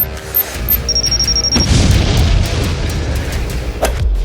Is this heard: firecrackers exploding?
yes